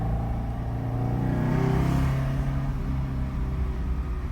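An Alfa Romeo 1750 GT Veloce engine running rich, heard as a steady, close, loud rumbling drone that swells slightly midway as it revs.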